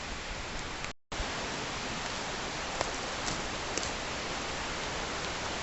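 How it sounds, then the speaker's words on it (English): Light rain makes a steady, even hiss with a few faint drop ticks, cut by a brief silent gap near the start. "it seems we've got a little bit of rain coming in. It's just starting to sprinkle"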